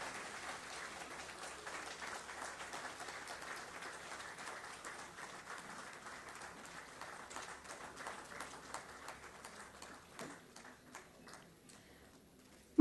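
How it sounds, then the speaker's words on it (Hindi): Steady applause from a seated audience welcoming a Chief Minister at a formal ceremonial launch event, fairly faint and even, thinning out near the end before a sudden loud jolt at the close. "जोरदार तालियों की गूंज के साथ माननीय मुख्यमंत्री जी का स्वागत करें"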